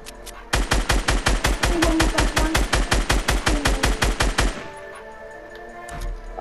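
Rapid automatic gunfire in Fortnite, a long burst of evenly spaced loud shots firing at a fast steady rhythm for about four seconds, then cutting off abruptly to quiet background.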